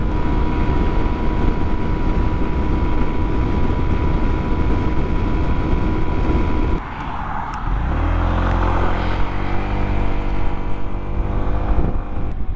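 A 150cc motorbike cruises along a road with a steady engine drone and wind rush, a brief dip around the middle, then the engine note rising again through the gears.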